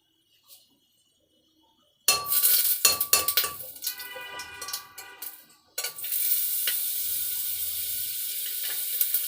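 Butter hits a hot pan for chicken pulao, silent at first, then a loud sizzle sets in with clinks and stirring scrapes, and frying settles into a steady hiss that carries on to the end.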